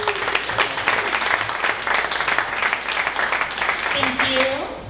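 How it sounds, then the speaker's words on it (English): Audience at a startup pitch event gives a sustained round of clapping, fairly loud and even, with a few voices calling out near the end. "One more round of applause for Lance"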